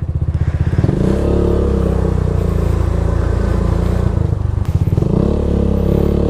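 Motorcycle on delivery duty in Baguio City, a loud close engine droning steadily with a rapid pulsing throb, a brief dip and resumption near the end, no talking.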